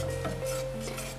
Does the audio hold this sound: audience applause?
no